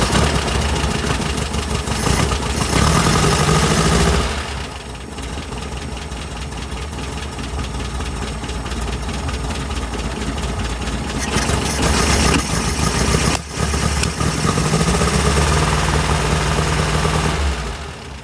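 A 1967 VW Type 3 Squareback engine with a carburetor cranks briefly, then catches and settles into a loud, close, steady idle. The idle has a continuous mechanical rumble and a slight knocking rhythm.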